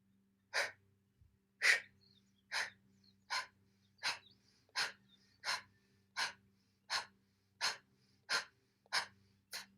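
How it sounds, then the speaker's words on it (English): Forced nasal exhales from a breathing exercise, about thirteen sharp, evenly spaced puffs over ten seconds, close and fairly loud, with a faint steady low hum underneath. "inhaling through the nose naturally with a forced pushing out of the exhale"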